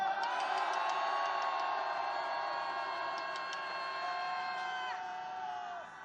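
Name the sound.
crowd shouting and cheering at candlelight rally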